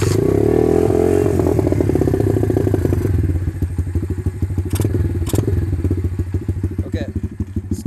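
An SSR 125TR-BW pit bike with a Nibbi carburetor sputters to life and settles into a loud, close, rapidly pulsing single-cylinder idle, with a couple of sharp clatters near the end.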